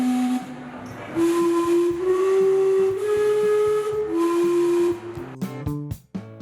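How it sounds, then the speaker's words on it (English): The Gastown Steam Clock in Vancouver whistles the Westminster chime, sounding loud, breathy steam-whistle notes in a slow four-note phrase with hissing steam between tones, ending in a quick rattling flurry of steam bursts. "The Steam Clock whistles the Westminster chime every 15 minutes."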